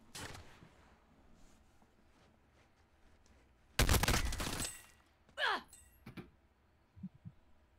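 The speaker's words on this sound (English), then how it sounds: "Under fire here" Gunfire in a Call of Duty-style plunder match: a loud burst of rapid shots mid-clip with a few scattered shots around it, and a player's voice talking over the action.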